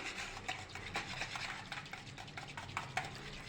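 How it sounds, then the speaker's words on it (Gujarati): Yogurt is whisked with water into buttermilk in a bowl, giving a soft, close, continuous stirring and whisking sound with quick rhythmic strokes. "આવી રીતે દહીંને ફેટી લેવાનું છે તો હજી આપણે અડધા કપ જેટલું પાણી લઈ લઈશું અને બરાબર ફેટી લઈશું"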